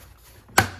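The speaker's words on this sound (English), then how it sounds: "until you hear a clip" A cordless vinyl blind headrail snaps into its mounting bracket with a single sharp, fairly loud plastic click, preceded by faint handling rustle.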